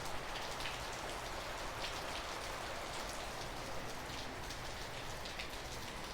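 Heavy, gusty rain falls in Northern California, a dense steady patter of drops drumming on surfaces, even and sustained throughout, moderately quiet and with no voices.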